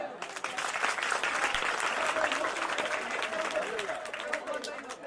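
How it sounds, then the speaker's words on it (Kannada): A crowd claps in loud, dense applause that continues throughout, with an auctioneer's voice faintly audible underneath, at a temple idol immersion festival. "ದೊಡ್ಡ ಚಪ್ಪಾಳೆ."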